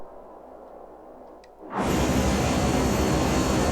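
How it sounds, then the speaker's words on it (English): A faint low hum gives way, after a couple of seconds, to the sudden loud, sustained roar of a jet engine spooling up in a flight-simulator video game, on a Cherrier Tango aircraft mod. "the jet engine is quite loud"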